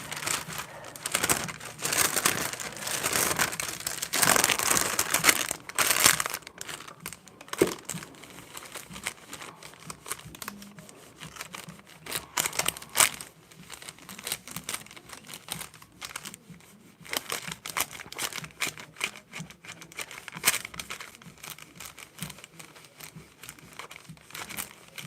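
Transfer paper being folded over fabric, close crinkling and crumpling with soft handling rustles, louder in the first few seconds then intermittent.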